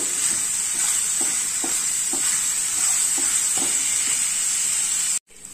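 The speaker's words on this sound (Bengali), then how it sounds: "পেঁয়াজ আদা রসুন সব কিছু ভালো করে নাড়তে হবে হাই ফ্লেমে যতক্ষণ না আদা রসুনের কাঁচা গন্ধটা যাবে আমরা এটা সতে করব" Onion, ginger and garlic sauté over a high flame, giving a steady loud sizzle with soft periodic scrapes of stirring, which cuts off abruptly at the end.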